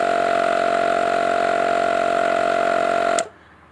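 A portable tire pressure inflator pumps up a motorcycle tire, its motor and pump running as a loud, steady buzzing drone close to the listener that cuts off abruptly near the end, leaving quiet.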